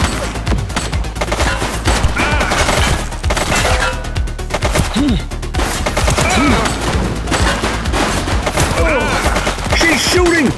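Sustained gunfire in the police game The Precinct, rapid loud volleys of close shots rattling almost nonstop, with brief voice-like fragments and sirens faintly underneath.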